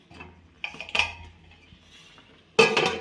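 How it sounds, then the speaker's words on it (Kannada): A steel plate is set over a pot of upma with grated coconut, producing a few clear metallic clanks and scrapes, the loudest right at the end, over quiet kitchen background. "ತಟ್ಟೆ ಮುಚ್ಚಿಟ್ಬಿಡೋಣ ಅದಕ್ಕೆ."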